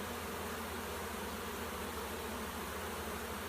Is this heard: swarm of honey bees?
yes